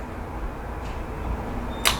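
Moto Z4 smartphone camera shutter firing once, a brief sharp click near the end over faint room background.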